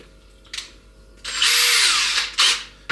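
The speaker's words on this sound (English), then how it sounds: "once you've drilled your hole and you're happy, take your hole jig" A power drill spins up loudly and close, whining steadily for about a second before stopping, boring a hinge hole in wood with a hole jig, with short bursts of tool noise just before and after.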